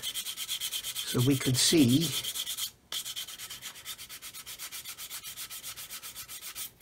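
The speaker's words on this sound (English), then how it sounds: "never be too afraid, guys, of using a coarse sander" A coarse sander works over a plastic 1/144 C-141B Starlifter model kit, a rhythmic rasping scrub that briefly pauses, with a short spoken phrase near the start.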